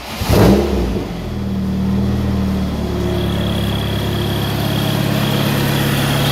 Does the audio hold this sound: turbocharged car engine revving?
yes